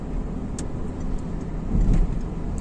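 A car speeds up while merging into the middle lane of a road during a driving lesson. Its engine hums steadily from inside the car under road noise, swelling briefly near the end.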